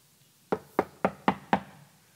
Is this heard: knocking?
yes